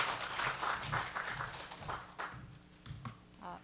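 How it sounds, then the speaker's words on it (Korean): Audience clapping for a speaker being welcomed to an academic colloquium, a faint, fairly brief patter of applause in a hall that fades toward the end. "큰 박수 부탁드리겠습니다."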